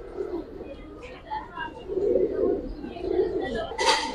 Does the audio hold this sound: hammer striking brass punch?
no